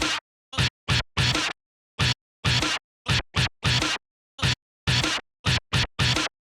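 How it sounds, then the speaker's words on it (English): Turntable drumming on a record deck: short, punchy kick-like stabs and a snare hit cut in a quick stab, stab, snare rhythm, each burst separated by silence, loud and close with no voice. "we're going to be doing 2 kicks or 2 stabs. And then during the second stab, we're going to let it play as far as the snare"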